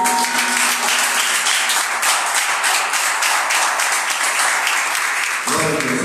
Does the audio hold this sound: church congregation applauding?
yes